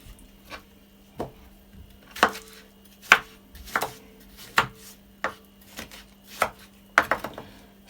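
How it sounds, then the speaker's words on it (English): A knife slicing through Sharon fruit on a board, about a dozen crisp chops at an uneven pace, close and distinct against a quiet background with a faint steady hum. "Cut up the Sharon fruit."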